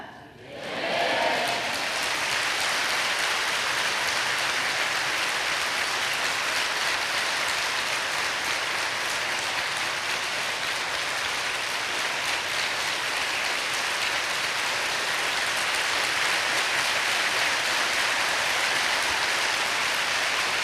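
A large audience at a religious rally breaks into sustained applause, a dense, steady roar of clapping that continues without pause for a long stretch.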